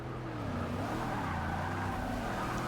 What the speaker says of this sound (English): Cars are crashing everywhere.